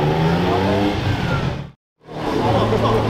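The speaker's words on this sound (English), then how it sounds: "Got the Aventador S leaving." A Lamborghini Aventador S pulls away with its engine revving loudly nearby, cut by a sudden second of silence before the roar resumes.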